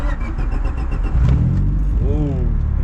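A loud Honda Civic engine cranks and catches, its low rumble swelling as the revs climb, with a voice briefly heard over the idling car.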